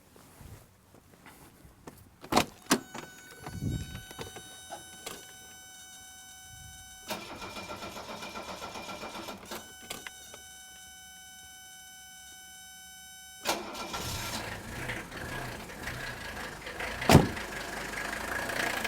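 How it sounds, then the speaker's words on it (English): A 1977–1985 Mercedes diesel engine cranks with sharp starter bursts, then catches and runs; a steady high whine and rumbling idle sit under clattering mechanical noises, with a louder run-up toward the end. "Now I'm going to start the engine."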